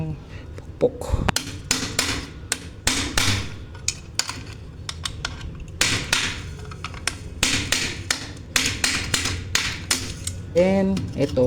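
A hammer pounds on a part of a twin tub washing machine with a defective timer and motor, giving sharp, irregular close-up knocks in clusters. Someone talks quietly between the strikes.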